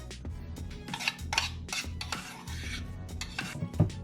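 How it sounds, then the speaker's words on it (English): Diced onions and green pepper scraped and tipped into a bowl, a run of close rustling scrapes and soft knocks of a utensil against the bowl, irregular and moderately quiet. "I'm going to put my diced onions and my green pepper in this bowl."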